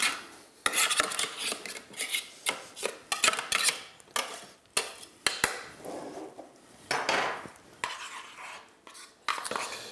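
A spoon scrapes repeatedly against a dish while trout tartare is prepared in a restaurant kitchen, giving a run of close, irregular metallic scrapes and clinks with short pauses between strokes.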